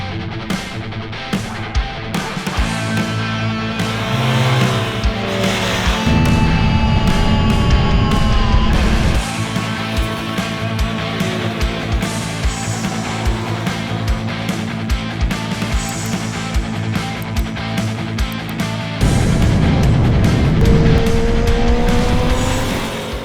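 Zontes 703 RR and CFMOTO 675 SRR sport motorcycles racing at the Slovakiaring track, with loud high-revving engines whining up and down through gear changes as bikes sweep past close by, alone without talk.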